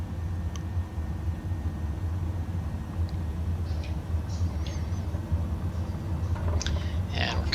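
A small aircraft engine drones through the takeoff roll, a steady low rumble with rattling and bumps growing busier toward the end.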